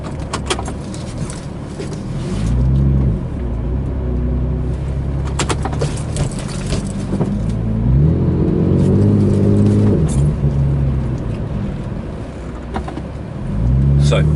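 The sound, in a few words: Porsche 996 C4S driving during a three-point turn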